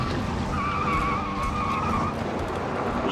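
Car tires skid and squeal through a J-turn driven from about 20 mph, a sustained screech holding for roughly two seconds over steady engine and road noise, loud and close.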